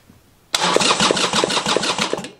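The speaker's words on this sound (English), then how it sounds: "I'll crank it right now" After a brief quiet moment, the engine of a Harley-Davidson Sportster chopper cranks over with a steady, rapid chugging rhythm from the starter, loud and close, without catching.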